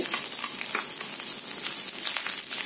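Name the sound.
frying spices with ginger and garlic in a pan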